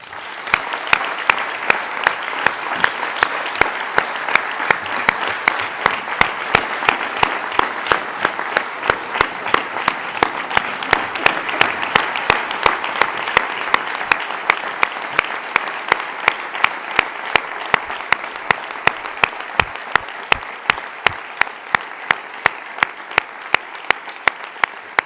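Sustained audience applause at a regional party committee meeting in the Canary Islands, steady dense clapping from a large crowd that fills the whole stretch without pause.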